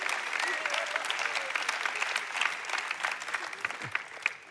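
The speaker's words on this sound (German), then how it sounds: "Darum klatschen wir, ISF. Wieso? Wir sind begeistert über die Wunder Gottes." A church congregation at a Sunday service clapping and cheering together, dense continuous applause with scattered whoops and shouts, loud and full throughout.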